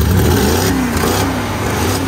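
A loud, close engine on the old Hulkman 100 revs steadily throughout, its droning, slightly rising pitch running continuously with no talk over it.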